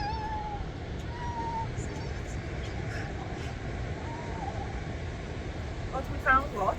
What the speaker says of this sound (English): Harassing the poor cats.